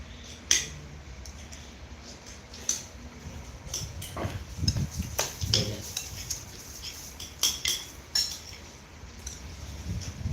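Cutlery and dishes clink at a home meal of som tam, sharp scattered metallic taps and chinks spread through the clip over a low background, with short bursts around the middle and a few near the end.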